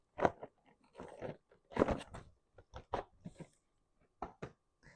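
Crunchy Annie's snack mix chewed close to the mic, loud crisp bites and irregular crunches in short bursts with brief pauses between them.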